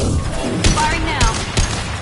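Mass Effect 2 weapons fire during combat, a few punchy shots at irregular intervals mixed with sci-fi tones, under and between voices talking.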